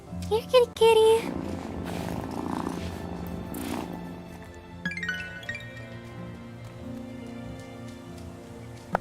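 A cat purrs in the farming game Wylde Flowers, a soft low rumble sitting under game music and chimes, with a voice speaking briefly near the start.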